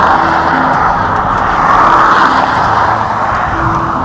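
Steady road traffic rumbles past on a nearby road during a rest stop on a bikepacking ride, a continuous broadband wash of engine and tyre noise with no clear breaks, fairly loud and constant throughout.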